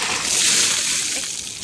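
Ice water from a bucket pours and splashes over a person, a broad rushing splatter that fills the whole moment, loud and close, with no talking over it.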